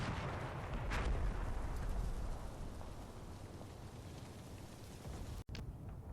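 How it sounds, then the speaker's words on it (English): Artillery barrage in the war game Combat Mission: Red Thunder: a continuous rumbling wash of distant shellfire and crackling impacts, loudest early and then easing, with a brief dropout near the end. "our readjusted artillery barrage is beginning to take effect"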